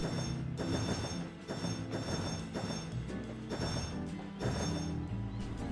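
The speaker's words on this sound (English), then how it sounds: "With Gary passed, it's time for Edward to leave with his passenger train." A train rumbles past with rhythmic clacking of wheels over rail joints and metallic rattling, steady and fairly close.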